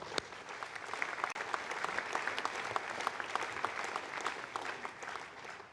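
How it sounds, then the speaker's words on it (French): Audience applause honoring the builders of an Ariane 5 rocket at an Arianespace launch event, a dense, even wash of many hands clapping, steady throughout and somewhat distant. "Je demande d'applaudir les gens qui l'ont construit."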